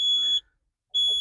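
Truck low air pressure warning buzzer sounding as a steady, shrill electronic tone, heard in two loud bursts separated by a short silence, with no talk.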